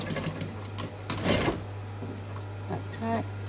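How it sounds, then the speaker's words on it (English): Domestic sewing machine stitching a zip onto a garden seat pad, a fast rattling run of stitches with a louder burst in the middle, under a steady mains hum and a person talking quietly. "I'm going to stitch where my thumb is on top of that existing stitching"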